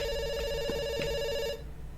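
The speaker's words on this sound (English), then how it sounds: "It's ringing." A telephone rings in The Stanley Parable video game, a steady electronic trill with two brief pulses of ringing tone that cuts off abruptly near the end, leaving faint room noise.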